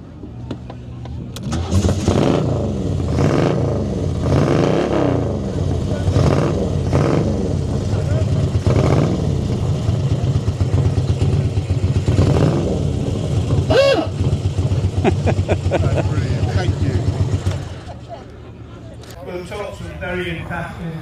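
A 91-year-old vintage car at an outdoor motor show at Wollaton Hall, Nottingham, starts up and runs with a loud, rough, steady engine clatter, then cuts off, while people talk nearby.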